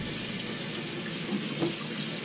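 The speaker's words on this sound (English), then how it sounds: "we're going to get these sweet potatoes washed up real good" Lukewarm tap water runs steadily into a sink as sweet potatoes are scrubbed with a washcloth, a continuous close hiss with small splashy bumps and no talking.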